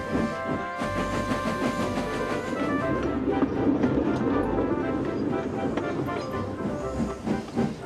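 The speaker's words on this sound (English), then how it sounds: "They chuffed gently into the station." A steam train in a video game chugs steadily into a station with hissing steam and rhythmic rail clatter, a continuous mechanical rumble with ringing tonal overtones.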